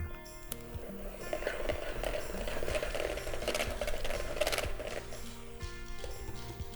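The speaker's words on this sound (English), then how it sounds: "you're gonna turn the beater up a little bit and just let that mix" An electric beater turned up to mix deviled egg filling, making a steady whirring buzz for several seconds with light rattling, close by, before easing off.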